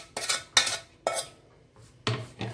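A utensil scrapes and clinks against a dish while sunth vada ingredients are mixed, with five or six separate metallic strokes close by and quiet between them.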